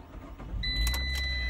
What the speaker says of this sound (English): This is a manual transmission, so foot on the clutch and turn the key.